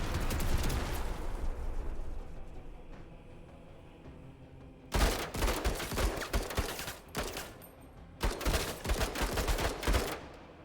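Sustained volleys of soldiers' gunfire in a tactical war video game, an opening barrage that fades, then two dense bursts of rapid overlapping shots later on.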